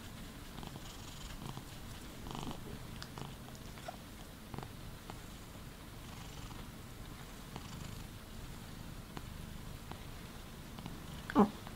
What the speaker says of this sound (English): You don't want to purr anymore?